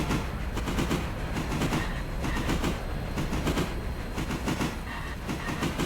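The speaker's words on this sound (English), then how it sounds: "There comes the passenger train, I think." A passenger train passes in the video game Railroader, a steady, loud rumble with rhythmic clickety-clack of wheels on rail joints running throughout, no talking.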